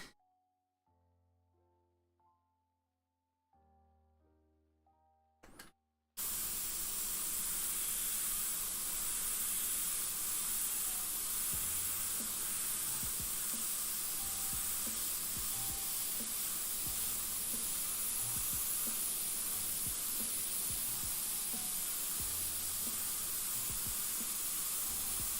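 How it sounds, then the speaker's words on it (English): Spray paint hissing from a can in a long continuous burst as an edge is shaded down, steady and close, starting abruptly after a few seconds of quiet background sounds. "So just sprayed a bit going down this edge just to shade it all down"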